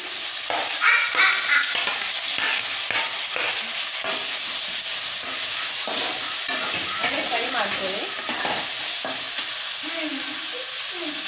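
Two large onions hit a hot pan already holding garlic and curry leaves, giving a loud, close hiss and crackle with spoon scrapes and stirring clatter throughout, faint voices briefly underneath.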